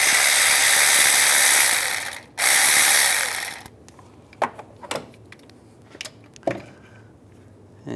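A ratchet wrench with a 10mm socket turns an air pump mounting bolt on a 1998-2010 Volkswagen Beetle: a rapid, close clicking run, a brief pause, more clicking, then a few separate sharp clicks and taps.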